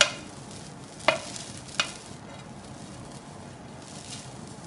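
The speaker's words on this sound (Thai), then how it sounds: "โอเคแล้วเราก็ผัดไปเลยครับ" Glass noodles with egg and cha-om are stir-fried in a pan, giving a soft continuous sizzle with two sharp scraping clacks of the spatula early on.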